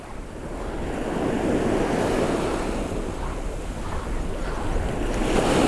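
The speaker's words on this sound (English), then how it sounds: "There's quite a bit of onshore wind coming in. It's creating a few breakers" Ocean waves break on Eastney Beach at low tide as an onshore wind blows. The surf is a loud, continuous wash with steady wind rumble on the microphone and no voices.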